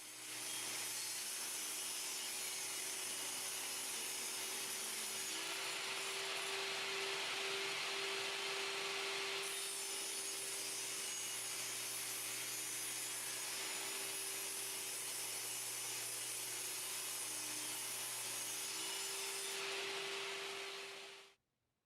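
A saw cuts wood with the grain for a game case build, producing a continuous hissing, rasping roar with a steady hum underneath, close and fairly loud for about twenty seconds before stopping abruptly.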